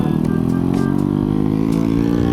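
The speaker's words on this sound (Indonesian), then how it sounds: "Kenceng doang knalpotnya. Berisik doang ya, kenceng." A motorcycle with a loud exhaust revs hard nearby, a rough continuous roar that holds steady the whole time with no talk over it.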